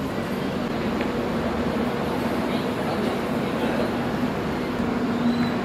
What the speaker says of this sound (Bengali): আমরা নাসিকে নেমে গেলেও এই ট্রেন কিন্তু যাবে বম্বে সিএসটি অবধি